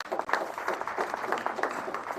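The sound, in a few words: audience applause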